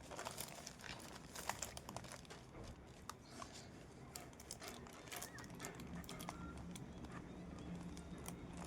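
Wrapping being crinkled and handled while a saree is packed for shipping, a steady close rustle with small crackles and taps that runs throughout at low level.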